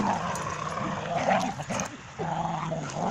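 Dogs playing tug at Swope Dog Park, with low playful growls and snarls rising and falling over a couple of seconds, fairly close amid outdoor background noise.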